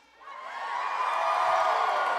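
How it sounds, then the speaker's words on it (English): Cheering from a convention panel audience at PAX West 2017 rises quickly from quiet into a sustained, loud crowd roar with whoops and shouts. "everyone just cheers all the time"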